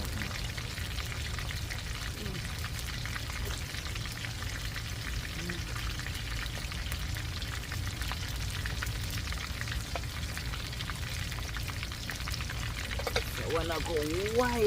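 Snapper fish frying in hot oil for Jamaican cooking, a steady close crackling sizzle that runs unbroken and evenly loud throughout, with no talking over it.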